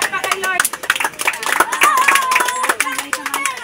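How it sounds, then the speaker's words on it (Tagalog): A group of people clapping their hands together in quick, uneven rhythm at close range, with voices calling and singing over the applause in a lively gathering. "palakpak kay Lord"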